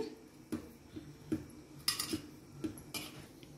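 Leftover idlis are mashed in a pan while making idli upma, a quiet scraping and a few light clinks of a utensil against metal at an irregular pace, with no talking.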